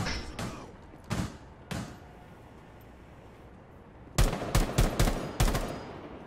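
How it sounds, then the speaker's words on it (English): Gunfire in the video game Rainbow Six Siege: a few spaced single shots, then a tight rapid burst of loud, sharp reports after a quiet gap, with no talking. "But they're still shooting at me"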